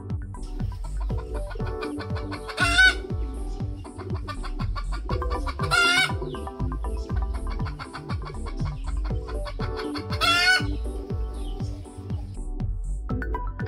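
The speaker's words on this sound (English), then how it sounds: "Chicken." Chickens cluck in a steady, close rhythm with a rooster crowing loudly three times over the farmyard clamor, with no talking.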